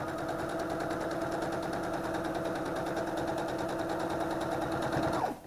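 A sewing machine runs at a steady, fast mechanical rattle while tacking down the corner of a pillow close to the edge, continuous and fairly close, stopping abruptly at the end.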